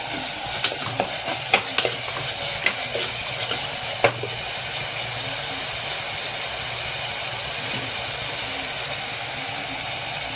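Tomatoes go into a pan of spicy fish curry, raising a loud close sizzle and scraping stir strokes for the first few seconds, then a steady hissing fry that continues alone.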